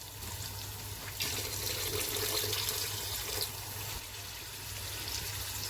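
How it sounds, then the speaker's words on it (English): Two cups of water pour steadily into a pan of potato and mutton curry, a continuous splashing trickle with slight surges partway through. "I'm going to put in 2 cups full of water into the pan"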